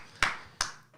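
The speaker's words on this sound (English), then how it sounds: "That's premature clapping, dude." An audience claps in a few sharp, scattered bursts, three isolated claps about a third of a second apart, fairly faint and distant against a quiet room.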